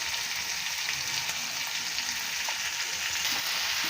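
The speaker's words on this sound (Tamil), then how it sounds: "இப்போ நம்ம உப்பு சேர்த்து வதக்கலாம்." Tomatoes, onions and chillies sauté with salt in a village-style pan, giving a steady, close, unbroken sizzle with faint stirring underneath.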